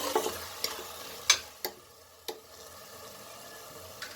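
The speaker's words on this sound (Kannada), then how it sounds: "ಹಾಗಾಗಿ ಒಂದು 10 ನಿಮಿಷ ಬಿಡ್ತಿದ್ದೀನಿ ಇದರಲ್ಲೇ ಫ್ರೈ ಆಗೋಕ್ಕೆ." Masala frying in a pot for avare kaal bhat, with a few sharp knocks and scrapes of stirring over a quiet, low sizzle that fades toward the end.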